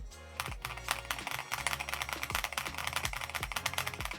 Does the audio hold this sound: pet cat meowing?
no